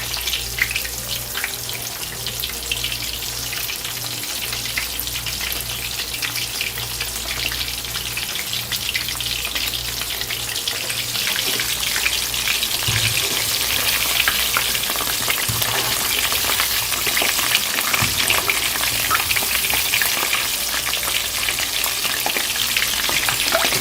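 Shrimps fry steadily in oil in a pan for a sweet and sour dish, giving a dense, continuous sizzle that swells a little louder midway, with faint clinks and no talking.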